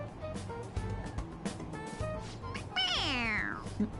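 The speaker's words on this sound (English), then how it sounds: "It's, a toy. It meows when you press on its head." A toy cat in Persona 5 Royal gives out electronic meows when its head is pressed, with short mews and then a longer falling meow, set against game background sound.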